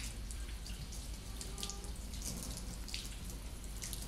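An arm is rinsed under a running tap during surgical hand scrubbing. The water flows in a steady, soft, continuous splash with small spattering variations throughout, and no one speaks.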